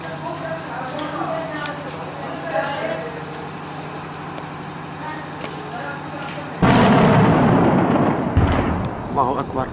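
Heavy artillery shelling strikes the city of Rastan; chanting voices come first, then a loud blast erupts and rumbles on to the end.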